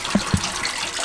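Water rushes steadily into an animal waterer for bison, a continuous close gushing fill with a couple of soft knocks near the start, no talk.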